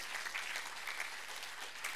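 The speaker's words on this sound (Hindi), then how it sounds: "पतंजलि के लिए भी ताली बजाओ" Faint, steady applause from an audience at a Swami Ramdev yoga gathering, a continuous patter of many hands clapping at a distance.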